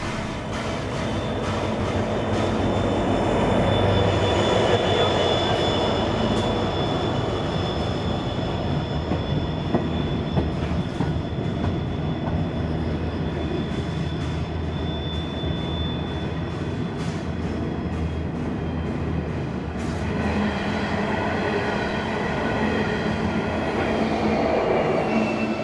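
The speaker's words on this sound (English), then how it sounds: "we see two TT class diesels from Pacific National hauling an empty freight top and tailing" Two Pacific National TT class diesel locomotives haul an empty freight train top and tail near station yards in New South Wales, with a steady, loud rumble of rolling wagons and wheel clatter throughout and occasional faint squeals, no talking.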